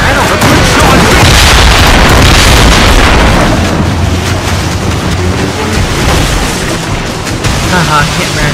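Naval cannon fire during a fleet battle in Assassin's Creed Rogue, loud booming blasts rolling over continuous battle noise and sea ambience, with shouted voices mixed in.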